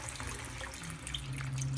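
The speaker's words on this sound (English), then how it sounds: "we're going to pour in the white wine" White wine pours steadily into a hot frying pan of mushrooms with a soft, splashing hiss, building slightly toward the end.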